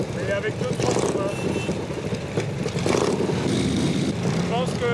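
Several motorcycles with a freshly repaired bike among them ride to a town hall for a wedding, their engines droning and revving steadily throughout, with voices talking over the noise.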